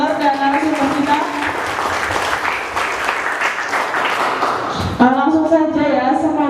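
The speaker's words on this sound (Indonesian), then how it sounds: "Saya minta tepuk tangannya yang meriah untuk moderator dan narasumber kita." An audience at a school curriculum discussion applauds the moderator and speakers with sustained, dense clapping under a speaker's amplified voice. The clapping fades as the speech continues alone.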